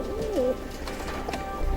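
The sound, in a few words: Blondinette frill pigeons cooing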